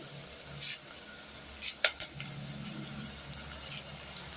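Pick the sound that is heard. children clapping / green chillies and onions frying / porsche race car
green chillies and onions frying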